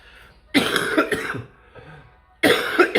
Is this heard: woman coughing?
yes